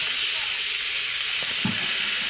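Malabar spinach (pui shak) with its stems frying in a pan on the stove, giving a steady, close hiss and sizzle throughout with a few faint stirring knocks.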